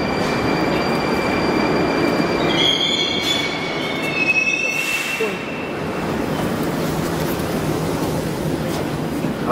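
A Kazan metro train, an 81-740.4 Rusich on route 9, rumbles along the track with the wheels squealing in high-pitched bursts over the steady roar of the car interior.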